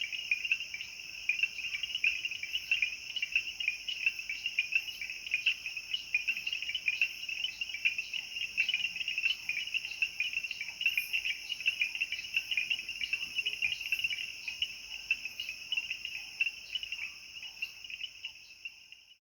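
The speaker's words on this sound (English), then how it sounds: "What you hear is the original sound, produced by a myriad of male bell frogs" A dense night chorus of male bell frogs in the Kalahari gives a continuous, high, ringing pulsed trill, many voices overlapping steadily at a moderate level.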